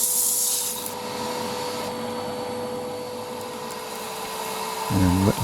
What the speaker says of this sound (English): we're now dry sanding up to 600